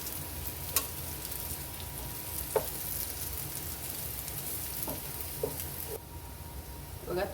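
Colocasia leaf rolls (patra vadi) shallow-frying in oil in a pan, a steady soft sizzle with occasional small pops and spatters, close and moderately quiet.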